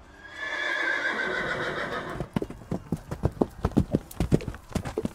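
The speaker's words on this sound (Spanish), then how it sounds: "espoleó a su caballo y se lanzó contra Sexto" A horse neighs, then is spurred into a gallop, hooves clip-clopping in a fast, uneven rhythm of sharp, close, fairly loud beats.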